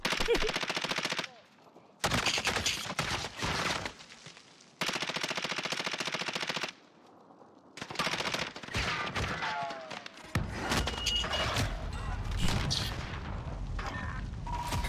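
Automatic gunfire in the video game Warzone comes in several loud, sustained bursts with short gaps between them. Heavier, denser shooting builds toward the end.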